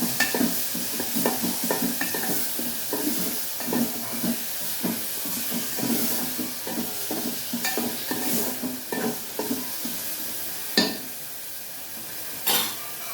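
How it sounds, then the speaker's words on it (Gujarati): Boiled green chickpeas get stirred through a pan, a spoon scraping in a steady rhythm over a faint sizzle, with a couple of louder clanks near the end. "આપણા બાફેલા ચણા હોય ને એ આપણે યાદ અંદર કરી દઈશું આપણે મિક્સ કરી દઈશું"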